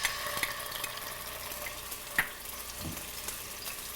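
Ginger frying in two tablespoons of cooking oil in a pan, a soft steady sizzle with a few light clicks and stirring scrapes, fairly quiet throughout.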